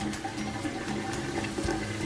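A kitchen tap runs water onto a paper towel, a steady close splashing hiss lasting the whole couple of seconds with no talking.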